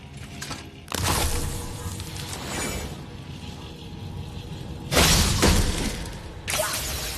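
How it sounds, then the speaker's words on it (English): Objects shatter in the video game God of War, bursts of breaking debris with whooshing impacts, loud sudden crashes at the start, near five seconds and again near six and a half, with rumbling game ambience between and no talk. "I will never get tired of shattering things with this."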